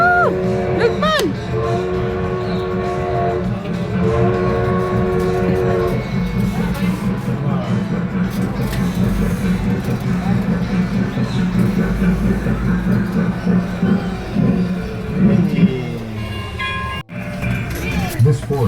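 Rumbling train ride from Chennai toward Yelagiri with clattering and rattling, voices chattering over it, a brief whistle-like tone and a sharp knock near the end.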